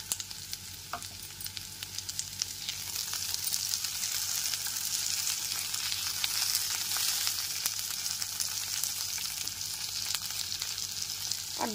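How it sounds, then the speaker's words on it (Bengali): Chopped tomatoes hit softly fried onions in a pan over a low-to-medium gas flame, with a faint, even sizzle and hiss that holds steady throughout, plus an occasional light clink, no voices. "এরপর এর মধ্যে টমেটো কুচিগুলো দিয়ে দিলাম।"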